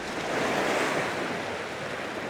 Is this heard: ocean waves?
yes